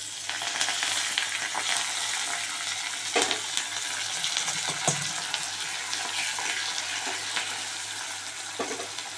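Curry leaves hit hot oil while making mamidikaya pappu, raw mango dal, giving a dense continuous sizzle and crackle with a few sharper spatters and a faint stirring clatter, close and fairly loud.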